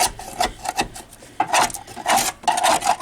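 Old porous seam sealer being scraped off the body of a Mercedes-Benz W123 280TE estate during rust repair, a series of rough rasping scrape strokes, close and fairly loud, with brief pauses between strokes and no talking.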